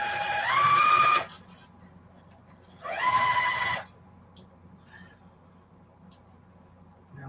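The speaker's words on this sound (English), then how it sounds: "I'm going to actually start sewing." A sewing machine stitches quilt block seams in two short bursts, each a rising mechanical whir lasting about a second, separated by quiet pauses.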